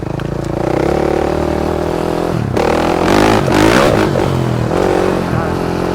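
A modified KTM 450 SX-F dirt bike engine revving loud and close, a steady, harsh roar that surges in pitch and intensity over several seconds.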